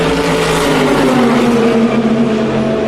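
Engines of race cars drone and swell along the Le Mans start-finish straight across from the pits, a loud sustained roar with reverberation and a pitch that slowly shifts, no voices over it.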